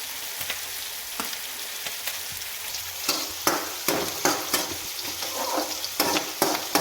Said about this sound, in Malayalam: ആവശ്യത്തിന് എണ്ണ ഒഴിച്ചിട്ട് മീൻ ഇങ്ങനെ വെന്തുകൊണ്ടിരിക്കുന്നുണ്ട്